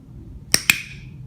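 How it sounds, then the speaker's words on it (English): Two sharp, bright clicks in quick succession, close and crisp, over faint room noise. "And then this is the sound that the clicker makes."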